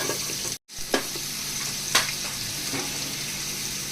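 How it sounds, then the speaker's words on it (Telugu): Tender country chicken pieces go into a pan with fried onion paste and ginger garlic paste, giving a loud continuous sizzle broken by a momentary cutout and a few light stirring clinks, with no talking. "ఇప్పుడు మనం శుభ్రంగా కడిగి పెట్టుకున్న నాటుకోడి ముక్కలు కూడా ఇందులో వేసేసుకుందాము."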